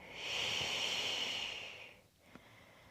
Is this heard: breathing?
yes